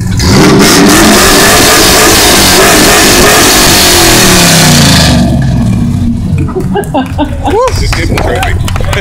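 A car's exhaust roars loud and steady as the engine is held at high revs during an exhaust competition at a car club meet, then cuts off, leaving crowd noise, shouts and whistles.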